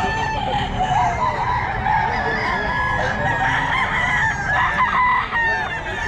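A rooster crows loudly and repeatedly at a chicken sale in Bulacan, with other fowl clucking nearby and faint crowd noise underneath.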